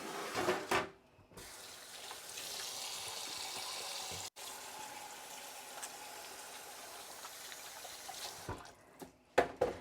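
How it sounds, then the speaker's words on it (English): Hands being washed under a running kitchen tap, a steady broadband rush of water pouring into a sink for most of the stretch, with brief clatter at the start and end and no talk. "So let me wash my hands."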